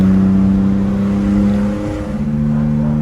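A 1962 Aston Martin DB4 Series IV coupe engine hums steadily with a strong low drone, its pitch shifting partway through as it changes gear, close and continuous with no voices.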